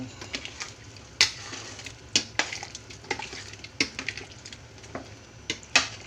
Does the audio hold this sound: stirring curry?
yes